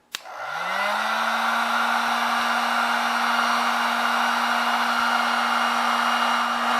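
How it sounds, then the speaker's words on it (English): A heat gun runs on a low setting while warming the end of a fuel line, starting with a click, spinning up, then holding a loud, steady whine and airflow rush with no talk. "I'm going to heat up the end of the fuel line with the heat gun."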